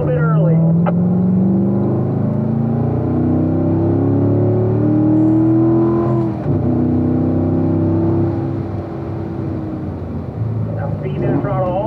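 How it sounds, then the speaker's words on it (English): Race car engine on a track, throttle easing off into light braking, a loud droning whine that rises and falls in pitch, heard close with someone talking over it. "Now speed that throttle all the way down, Richard. A little bit of braking."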